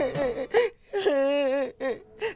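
Mournful crying from a character in an animated Vietnamese fairy tale: several wavering, sobbing wails and whimpers in short bursts with gasping breaths between them, close and fairly loud.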